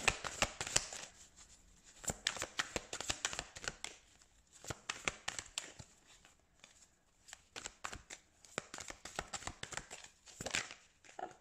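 Quiet, close shuffling of a card deck for a reading: many soft riffling and slapping strokes in uneven bursts with short pauses, no talk.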